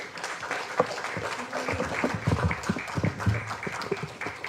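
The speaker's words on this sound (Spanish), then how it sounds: "seguimos con fuertes aplausos a la señora Adela García" Audience applause at an honorary ceremony in the Peruvian Congress, a steady broadband patter of many hands clapping with a few louder claps rising out of it, moderately near.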